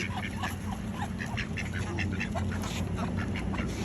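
Several ducks quack in short, repeated bursts over steady outdoor background noise. The calls sit at a moderate distance, with no talk over them.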